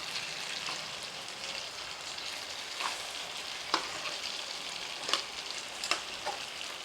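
Crabs fry quietly in a pan in a village kitchen, a soft even sizzle with a few sharp pops and crackles standing out now and then, fairly faint and with no one speaking.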